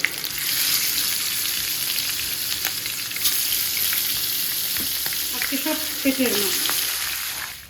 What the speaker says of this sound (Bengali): এখন মাছটাকে ভেজে তারপর মশলা দিয়ে দেবো